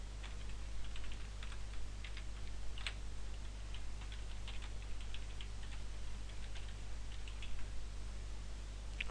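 Rapid, uneven clicks of fingers typing on a computer keyboard, quiet and close, with short pauses between bursts of keystrokes and no talking.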